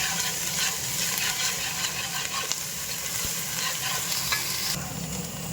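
Ginger and masala are stirred in a pan for mutton biryani, a steady hot sizzle running throughout with scraping spoon strokes, close and fairly loud, without any talk.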